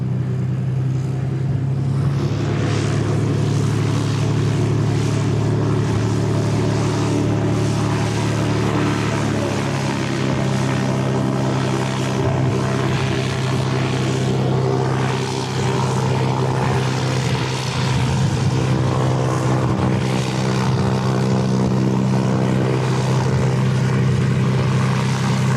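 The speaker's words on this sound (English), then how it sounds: "got a wee Cessna coming out from just in behind the Aero Club hangar." A beefy Cessna propeller plane taxis out from behind the Aero Club hangar at Christchurch Airport, its loud, steady engine drone and propeller hum continuing close by for the whole stretch.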